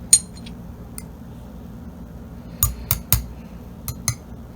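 Spoon clinking against a mug while banana mug cake batter is mixed, a few sharp clinks near the start and a cluster of quick taps later, close and fairly quiet over a low steady hum.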